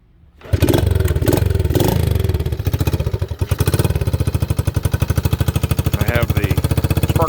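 A cold 1971 Honda SL70 motorcycle with its spark arrestor removed kicks over and fires up, then runs as a loud, close, rapid single-cylinder putter with uneven revving throughout.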